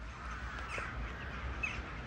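Birds calling near a bus stop outside Krakow, a few faint caw-like cries over a low outdoor rumble.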